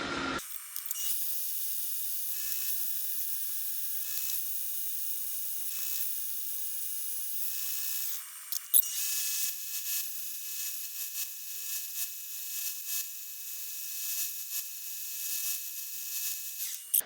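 Antique Logan lathe driven by a treadmill motor, running too fast with a steady high-pitched mechanical whine and faint ticking, a brief clunk about halfway through, then continuing to spin alone without speech.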